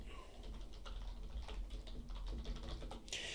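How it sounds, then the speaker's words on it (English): Keyboard typing during a livestreamed SAT and ACT study session, a steady run of quick close key clicks over a low background hum, ending in a brief hiss-like burst. "Let me just type these out."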